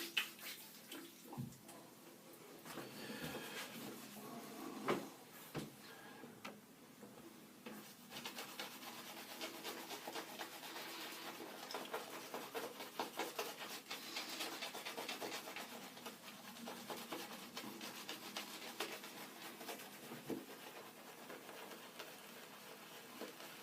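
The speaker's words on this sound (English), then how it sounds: "I've had a very close shave with that razor" Close shaving with a Mühle R89 safety razor and a Gillette Nacet stainless blade: repeated rasping scrapes in short, uneven strokes, near and fairly quiet, with soft rubbing and occasional taps between passes and no talking.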